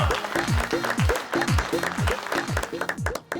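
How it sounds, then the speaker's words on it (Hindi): Audience applause in a Bhojpuri film scene, sustained clapping heard under a loud rhythmic music track with a steady beat. "तालियां।"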